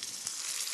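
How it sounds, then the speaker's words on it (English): Halved pears placed cut side up into golden caramel, a brief soft hiss of sizzling with no talk. "put the pears in, cut side facing up, you'll hear them sizzle"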